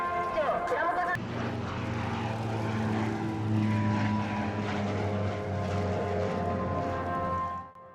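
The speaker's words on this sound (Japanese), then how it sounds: "最後は、1機ずつ、観客の前を通過、思い思いにご挨拶し、着陸します。" A JMSDF White Arrows propeller training aircraft passes low before landing during an air show, its droning engine steady and fairly loud, under a commentator's voice over a public address system, then cutting off abruptly.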